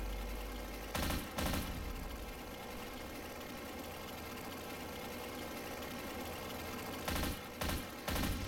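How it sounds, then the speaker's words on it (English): Sustained machine gun fire in the video game Left 4 Dead 2, a dense continuous rattle running throughout with a few louder bursts near the start and end, no talking. "Grabbing a machine gun."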